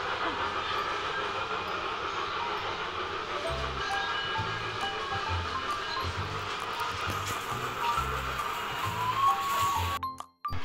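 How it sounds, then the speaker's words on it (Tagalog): A train passes near a Japanese supermarket, a steady rumble with rhythmic clacking and a faint high squeal, fairly close and continuous before cutting off abruptly; no talking is heard. "May train pa dito guys oh. Ayun yung train oh."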